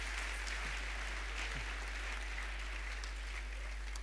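Church congregation applauding during a Sunday service, a faint, steady wash of clapping heard from a distance over a low constant hum, with no voices on top.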